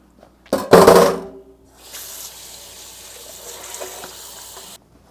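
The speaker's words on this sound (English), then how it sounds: "I'm going to rinse this real quick" Tap water runs into a sink while food is rinsed, opening with a loud gushing burst and knock, then settling into a steady, moderate stream for several seconds before shutting off.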